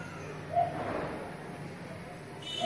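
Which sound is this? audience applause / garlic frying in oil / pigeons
pigeons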